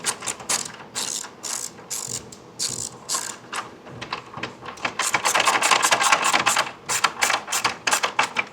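Hand ratchet tightening bolts while fitting KC FlexEra4 grill lights on an INEOS Grenadier, a steady run of quick close clicking strokes in bursts, growing denser and louder toward the end, with no talk.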